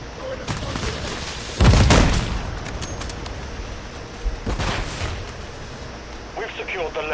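In a video game, a heavy grenade blast bursts out loudly, followed later by a second sharp burst of gunfire, with a voice talking in between.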